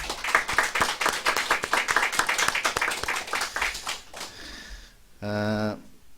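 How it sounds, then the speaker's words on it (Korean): Church congregation clapping in a Korean service, a lively run of individual claps for about four seconds before it dies away and a voice briefly speaks. "우리 한번 박수로 한번 격려했으면 좋겠습니다."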